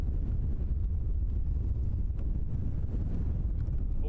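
Strong wind at Christchurch Airport buffeting the microphone with a constant, heavy low rumble and gusting roar, loud and unbroken throughout.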